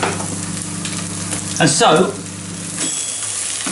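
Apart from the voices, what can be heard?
eggs frying in a pan while being stirred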